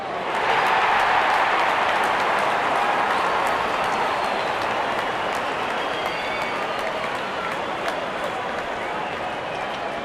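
A good crowd at an IPL cricket match cheers and applauds as the openers walk out, a steady dense roar of clapping and voices that holds for the whole stretch and slowly eases, with a commentator talking over it.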